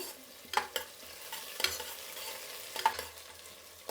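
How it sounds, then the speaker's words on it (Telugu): Onions and curry leaves fry in hot oil for a Karnataka-style masala rasam, giving a soft, steady sizzle broken by a few sharp scraping stirs, faint and close with no voices. "ఇప్పుడు ఈ ఎర్రగడ్డలు కొంచెం బాగా వేగని"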